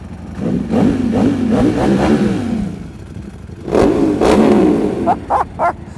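A custom Ducati Monster 1200 motorcycle revs hard through its exhaust, with repeated throttle blips and surging engine roar, a short pause, then another long rev and three quick sharp blips, loud and close.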